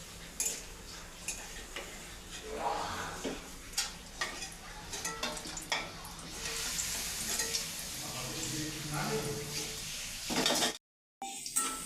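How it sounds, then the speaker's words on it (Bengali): Papad fries in oil on a gas stove: a close, crackling sizzle with irregular clicks and scrapes of utensils, swelling and easing before a brief cut-out near the end. "আমি এখানে গ্যাসে পাঁপড় ভাজছি।"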